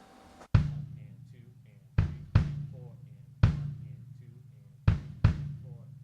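A basic rock drum groove with the bass drum adding an extra kick on the and of three, heard alone as close, punchy low thumps in an uneven pattern of single and paired hits.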